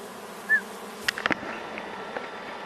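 Honeybees buzz close by at a hive frame, a steady low drone with a brief louder buzz passing near the start and a few soft taps.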